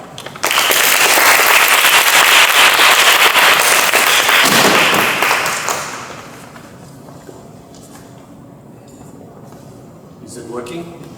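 A lecture audience claps loudly to welcome a speaker, dense sustained applause that fades out after several seconds, followed by quiet room tone and a brief voice at the end.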